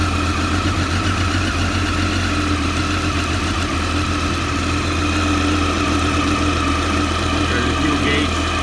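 A motorcycle engine idles steadily at close range, a continuous even rumble with no talk over it.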